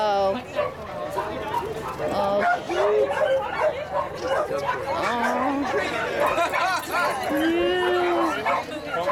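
A rescued puppy barks, yips and whimpers repeatedly at close range while several people chatter around it.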